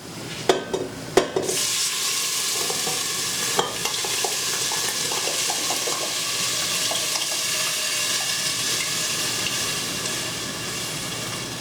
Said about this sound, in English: now we're going in with our crushed tomatoes